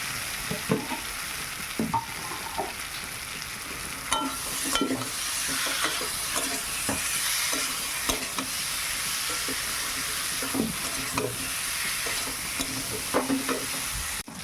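Spiced food frying in a pan for a Bengali village dish with whole green chilies, with a steady sizzle running throughout and repeated scraping stir strokes every second or so, close up and with no talking.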